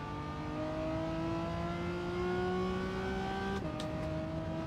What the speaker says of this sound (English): down this long straight, I need to listen to what Greg was saying and really wring the neck of this car